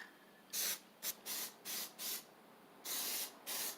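Short bursts of an aerosol can spraying Plasti Dip rubber coating onto a BMX bike frame, close and hissing, with about seven separate sprays of varying length and quiet pauses between them.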